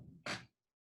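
A single short, sharp sneeze burst, close and fairly quiet, preceded by a breathy inhale and followed by silence.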